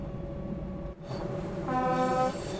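A Czech train horn sounds partway through in Train Sim World on the Liberec to Stará Paka line, a sustained tonal blast rising over a steady rumbling engine background.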